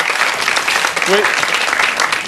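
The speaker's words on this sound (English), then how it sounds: "round of applause here" Audience applause rings out right after a spoon bending trick at a magic show, a dense, steady wash of clapping that fills the whole moment, with a brief voice heard through it.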